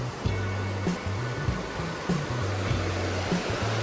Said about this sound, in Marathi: इथे असं पाणी वाढतं, पाण्याचा फ्लो वाढतो